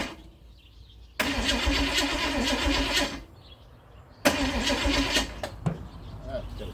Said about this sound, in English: we got power to the starter motor. Winding over.